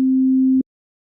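A waveform from the Arturia CZ V phase distortion synthesizer sounds as a single loud, pure low tone held for just over half a second, then cuts off abruptly into silence.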